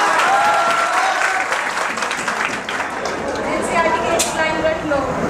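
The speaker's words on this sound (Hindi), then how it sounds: "एक ताली बजा के हौसला भर दो जरा।" A classroom audience claps together during a biology lecture, a dense burst of applause that carries on steadily and fades slightly midway, with some voices mixed in.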